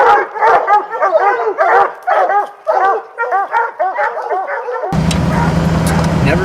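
Bear hunting hounds bay and bark in quick overlapping bursts, a noisy chorus of several dogs close by, with yips and whimpers mixed in, before wind-like rumbling noise takes over at the end.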